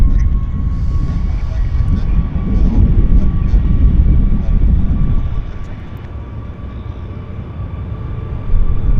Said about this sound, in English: There's Air India. This is probably a heavy aircraft.